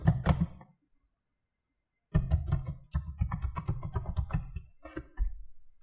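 A command typed on a computer keyboard: a short burst of close key clicks, a pause of about a second and a half, then a longer run of rapid, even keystrokes ending in a few separate taps.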